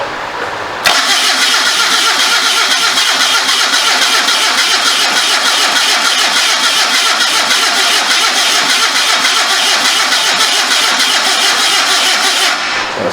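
Homemade motorcycle trike with a 1974 Datsun engine, its starter dragging against the flywheel, cranking loudly and continuously for about twelve seconds in a steady, harsh whirring grind without catching, no talk.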